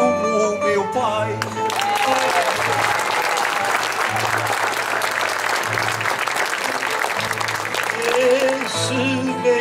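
Audience applause at a cantoria singing event during the Festas do Divino Espírito Santo, a dense, steady clapping that lasts the whole stretch, with music tones and faint voices beneath it.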